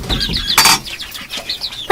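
Winter chickens cluck and chirp around their coop in a run of short, bright calls up close, broken by a couple of sharp louder squawks. Nobody speaks.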